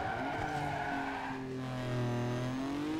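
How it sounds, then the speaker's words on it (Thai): Tires squeal loudly under hard braking in the racing game Need for Speed Underground 2, with a Mitsubishi Eclipse tuned in the garage; a sustained, wavering screech rides over steady engine drone. "เสียงเบรกดังมาก"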